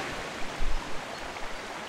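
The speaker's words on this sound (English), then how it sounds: "This water should flow all the way down to the lake" Water in the game Twilight Princess rushes and splashes steadily, with a broad noisy flow and a few low surges, heard alone.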